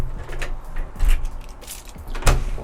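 A physical key turns in a Schlage Encode Plus smart lock on a front door, giving a few close mechanical clicks and clunks, with a sharper latch thud near the end.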